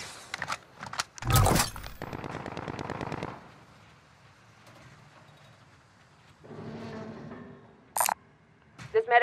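Gunfire in the Call of Duty Modern Warfare video game: a loud, close burst of shots, then a stretch of rapid crackling fire that fades into quieter distant shots. Game voices talk between the bursts.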